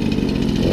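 A 1997 Peugeot 103 RCX moped's two-stroke engine runs after starting, a loud, close, steady buzzing rattle with no talk.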